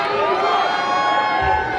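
Audience at a punk concert at the Majestic Ventura Theatre, yelling and cheering in a steady, dense roar with voices shouting over it.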